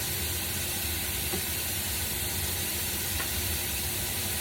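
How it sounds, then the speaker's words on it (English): Potatoes sautéing in a pan for rustic potato and sausage soup give a steady, close sizzle and hiss that holds evenly throughout with no talking. "So we're going to saute that for about 5 minutes."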